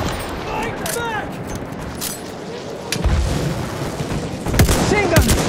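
Machine gun fire crackles across a Battlefield 1 conquest battle, dense rapid bursts with booming impacts and distant explosions, mixed under shouted soldier voices and combat chatter.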